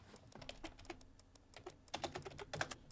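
Rapid, uneven typing on a computer keyboard during a Roblox word game, close and fairly soft, with clusters of key clicks and brief pauses, heavier bursts near the end.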